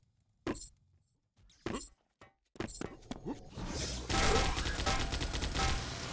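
Sharp shots and bursts ring out in a multiplayer match of a fast first-person shooter, building into continuous rapid Gatling gun fire with clinking impacts, loud and close, under a commentator's voice.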